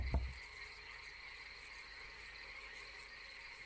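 Frogs croak in a terrarium inside a horror video game demo, a steady layered chorus of trills and chirps with a dull thump at the start, no voices.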